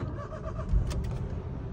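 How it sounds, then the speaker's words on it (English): A car engine cranks and fires up on its original key during a key-cloning test, a short close start followed by a steady idle with a brief bird chirp in the background. "original key, just to show the car starts"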